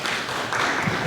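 An audience claps at a ward councilor candidate forum, a dense burst of applause that swells slightly and runs throughout the short moment.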